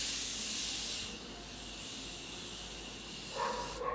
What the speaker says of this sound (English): So let me spritz my face with a setting spray.